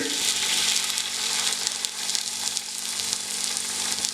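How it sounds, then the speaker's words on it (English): Homemade Kolhapuri masala sizzles and fries steadily in hot oil in a pan over medium heat, a loud, continuous crackling hiss, with faint stirring, close by and without speech. "now that the oil has heated on a moderate heat, and I'm going to turn this to a medium heat. I'm going to add in 5 tablespoons of the masala"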